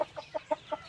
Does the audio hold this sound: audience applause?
no